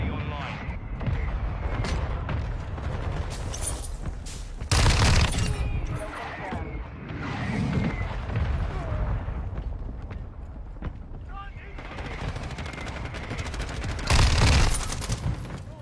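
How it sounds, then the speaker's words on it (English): Mortar strike explosions and bursts of gunfire in a shooting video game, loud booming blasts around five and fourteen seconds over continuous rattling fire, with voices talking over much of it. "Friendly mortar strike inbound."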